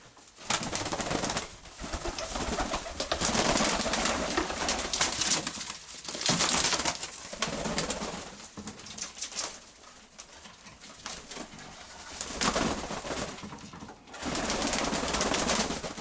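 Pigeons coo steadily while being fed, a dense, loud flock murmuring close by with rustling and occasional wing flutters, no talk over it.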